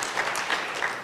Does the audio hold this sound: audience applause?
yes